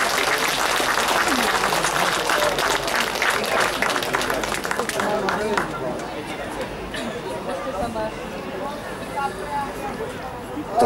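Audience applause at a CD launch celebration: loud, dense clapping fills the first five seconds, then thins into murmuring crowd chatter and voices.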